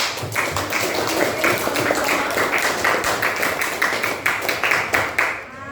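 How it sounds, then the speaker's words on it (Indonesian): A classroom audience claps for several seconds, a dense run of overlapping hand claps that stays steady and fairly close, then thins out toward the end. "Kasih tepuk tangan dulu dong"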